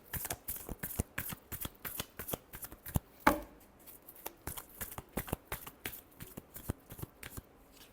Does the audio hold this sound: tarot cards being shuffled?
yes